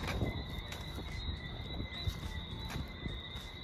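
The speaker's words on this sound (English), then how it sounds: "Y'all hear them frogs?" Frogs calling at night in Barbados, a constant high-pitched chorus of piping tones layered across the background, fairly faint, with scattered footsteps and rustling closer by.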